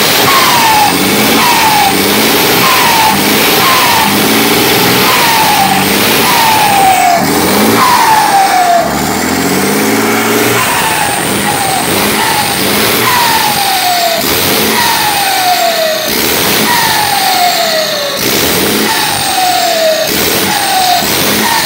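A Mercedes-Benz 1618 truck with a modified turbo works a curve, its engine revving loud and close. A high, falling turbo whistle repeats over and over like a siren, riding on top of the diesel roar.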